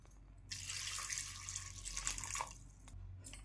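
Water runs steadily into a cooking pot for drumstick (moringa) soup, a continuous splashing pour starting after a brief pause and continuing close by, with no talk over it.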